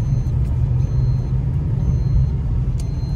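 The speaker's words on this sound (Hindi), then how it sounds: "गाड़ी लेके जा रहा है हम लोग" A car on the move gives a steady, loud low rumble of engine and road noise, heard continuously for a few seconds with no voices over it.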